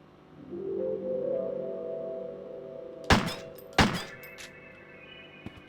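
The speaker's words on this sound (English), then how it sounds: "if you're aiming, apparently that's how you throw a grenade" In the video game Crow Country, a thrown grenade gives two sharp thudding bursts in quick succession after a low rumbling swell, followed by a faint later knock.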